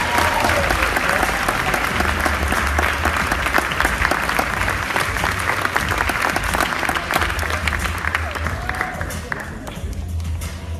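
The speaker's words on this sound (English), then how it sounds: "Give them a round of applause." Audience applause for a second-place school team at a Junior Achievement student pitch competition, a steady wash of many hands clapping that fills the room for about eleven seconds, thinning slightly near the end.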